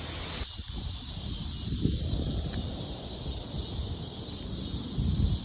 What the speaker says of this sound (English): getting real windy